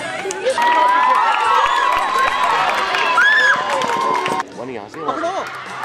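Spectators at a 2014 school annual sports meet cheer and shout loudly through the senior 480-metre final, a dense, steady roar with children's voices and whistles near and continuous, dropping briefly near the end as talk surfaces.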